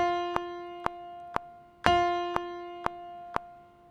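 A single steady musical note, an F, holds for four counts while a metronome ticks evenly beneath it, one tick every half second.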